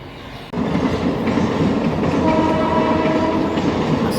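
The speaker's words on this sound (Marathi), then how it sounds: "आता ट्रेन पास होते" A train roars past close by, a loud steady rumble of wheels on rails that starts abruptly and continues, with a faint horn tone partway through.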